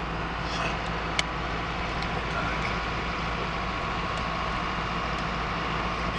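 Car driving along a snowy winter road, a steady close engine and road rumble that continues without change, with no clear voices over it.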